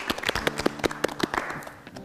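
A studio audience at a Kyrgyz talk show claps in a brisk, steady run of sharp hand claps that softens toward the end.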